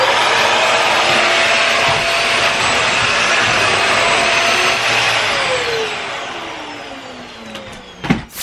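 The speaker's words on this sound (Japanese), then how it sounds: "掃除機壊れたんで念願のダイソンちょっと試してみたいと思います" A Dyson vacuum cleaner runs on a tatami floor with a loud, steady broadband whoosh and whine, then dies down near the end with a few knocks.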